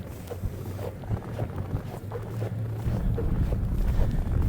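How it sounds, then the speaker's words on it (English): Wind blows through a New York City snowstorm, a rough, buffeting roar against the microphone that grows steadily louder over a few seconds. "the wind is blowing in this direction it is, and the snow is going with it"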